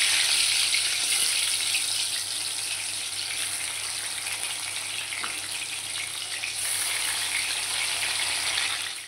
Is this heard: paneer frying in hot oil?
yes